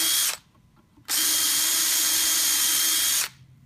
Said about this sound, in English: And I'm just going to drill the hole